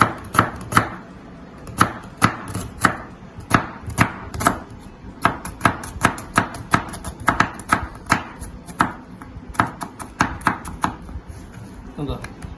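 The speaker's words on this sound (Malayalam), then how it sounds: "ആദ്യം നമുക്ക് ഉള്ളി അരിയാം" Repeated sharp knife taps against a cutting board as onions are thinly sliced for biryani, coming in quick irregular bursts with short pauses between runs.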